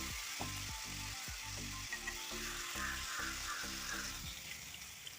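Onions with a pinch of salt are sautéed in a pan for a chicken thoran, giving a steady close sizzle broken by repeated scraping strokes of a spoon against the pan, with no talking.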